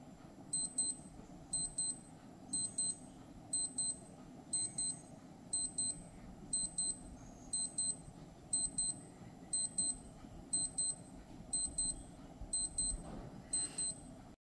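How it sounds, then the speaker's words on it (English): Repeated short bursts of high electronic beeping from a Casio B640W digital watch alarm, evenly spaced in rapid four-beep groups, with a low steady hum underneath. "Finally, let's check the alarms."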